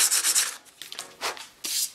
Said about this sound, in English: to just take a file or a bit of sandpaper and smooth that kerf up